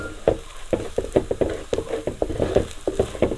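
Spices and turmeric powder frying in a pan, stirred with quick scraping strokes in a steady, close rhythm over a soft sizzle.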